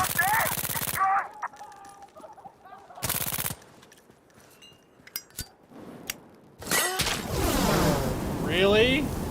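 Gunfire in the FiveM mod of GTA V: loud bursts of rapid automatic shots at the start and middle, with scattered single shots and clinks between, and voices talking through the action.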